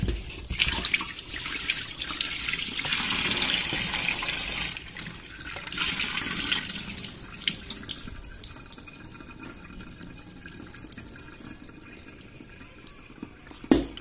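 Tap water runs steadily into a sink while fish pieces are washed for an asam pedas stew, the flow loud and continuous at first, then softer with splashes and drips toward the end.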